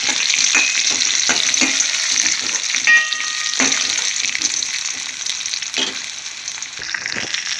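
Dried red chillies frying in hot oil along with green chillies and lentils, a loud, close, continuous sizzle with occasional stirring scrapes and crackles throughout.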